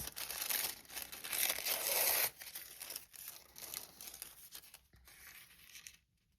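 Tissue paper crinkles and rustles close up during junk journal crafting, loud crisp bursts of crumpling at first, then softer intermittent handling before fading to quiet.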